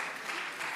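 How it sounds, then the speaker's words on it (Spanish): An audience at a forum talk on sociology applauds, a steady wash of many hands clapping, faint and somewhat distant. "Un aplauso para el chaval."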